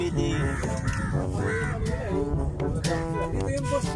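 Harsh caws from hungry crows being fed at the seaside in Yanbu repeat several times over a steady background of people talking and ambient noise.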